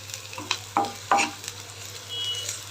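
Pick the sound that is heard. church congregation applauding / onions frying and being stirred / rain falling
onions frying and being stirred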